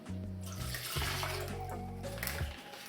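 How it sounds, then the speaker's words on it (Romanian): Water pours in a steady, close stream into bread dough for a few seconds, with a splashing, filling quality and no voices. "Acum punem restul de apă."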